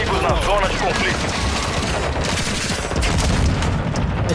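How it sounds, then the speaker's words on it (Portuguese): Dense, continuous rapid gunfire mixed with heavy booms and blasts in Call of Duty, loud and unbroken throughout. "É tiro, porrada de bomba"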